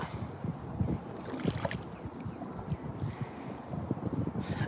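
Wind and water around a kayak out on open water, a steady broadband rush with soft low rumbles and faint splashes continuing evenly throughout, no talking.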